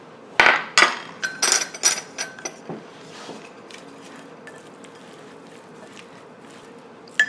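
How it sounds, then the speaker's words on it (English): Beef strips are stirred with cornstarch in a bowl, sharp clinks and taps of utensil against the bowl in a quick rhythmic series that fades into softer scraping, close and alone. "add 2 tablespoons of cornstarch and mix well again"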